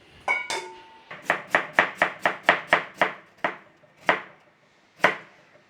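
A knife chops through potatoes on a board for a Cumbrian tatie pot stew, about a dozen sharp, evenly paced cuts close up that slow and space out toward the end.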